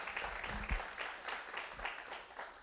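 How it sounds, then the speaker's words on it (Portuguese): A church congregation applauding during a service, a dense, steady wash of clapping that stays fairly quiet and muffled throughout, with no voices standing out. "Você pode aplaudir a Jesus pela vida deles também."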